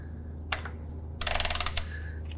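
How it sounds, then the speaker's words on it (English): A 3/8 ratchet clicking nearby as it loosens the filter on a John Deere X350 riding mower: one short burst, a pause, then a fast rattling run of clicks over a low steady hum, with no talk. "So I'm going to go ahead and put that to loosen."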